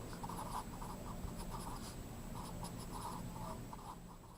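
A pen moving across paper while a force diagram is sketched makes a steady, close scratching with short rhythmic strokes, set against a constant low room hum.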